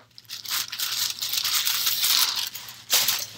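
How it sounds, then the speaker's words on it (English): Tissue paper closed with a Gucci sticker is peeled open and unwrapped around a small Gucci Marmont bag. Crisp crinkling and tearing rustles run nearly without pause and close up, ending in a sharper rip, with no one speaking. "It is wrapped in wrapping or tissue paper here with a Gucci sticker."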